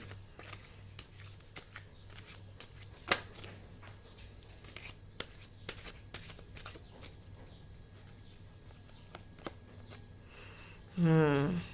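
Tarot cards are handled and shuffled during a reading, giving a run of soft, irregular papery taps and flicks at close range, while a steady low hum sits underneath and a brief voice is heard near the end.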